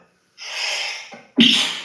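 A single sneeze, a breathy inhale building up and then a sharp, loud burst, heard close and alone.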